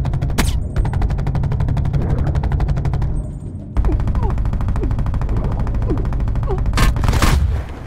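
Hipfire gunshots in Call of Duty Blackout, heard as long rapid automatic bursts of loud, close gunfire broken by a couple of short gaps, with no talking.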